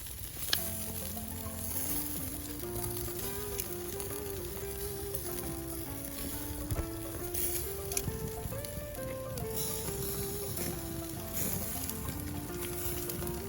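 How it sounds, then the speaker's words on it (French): Chicken for poulet yassa braises and sizzles in a pan, a steady crackling fry with occasional pops, heard under soft background music. "pendant que notre poulet est en train de bien braiser"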